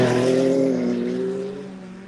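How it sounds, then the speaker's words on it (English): A rally car on a North East PA rally sprint course roars past nearby, engine loud at first and then fading as it pulls away, with a falling pitch and no voices. "Oh, there goes the car."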